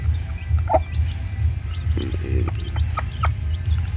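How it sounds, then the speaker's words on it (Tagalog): A backyard hen clucks a few times close by, short throaty calls over a steady low hum, with small chirps and scattered clicks around it. "So yun yung ating chicken."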